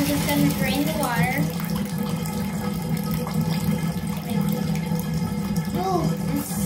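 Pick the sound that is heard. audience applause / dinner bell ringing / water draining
water draining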